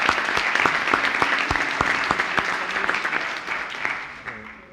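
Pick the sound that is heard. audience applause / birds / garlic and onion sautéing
audience applause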